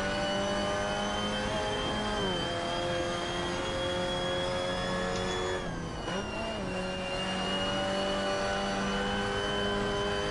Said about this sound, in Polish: A jak mały odrzutowiec, zajebisty ten samochód.